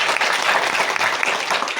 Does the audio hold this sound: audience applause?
yes